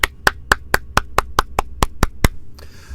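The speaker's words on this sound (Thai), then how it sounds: "ท่านผู้ชมปรบมือหน่อยเร็ว" Eleven sharp hand claps in a steady, even rhythm, fairly loud and close, with no voices over them; a faint hiss follows at the end.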